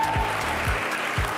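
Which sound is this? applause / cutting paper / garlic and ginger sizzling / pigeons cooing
applause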